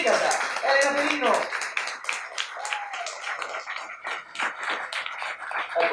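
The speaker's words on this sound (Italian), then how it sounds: "Un applauso per Mikasa!" At a comics convention panel in Rome, a modest audience claps in scattered, uneven bursts while a voice speaks excitedly over them through a microphone.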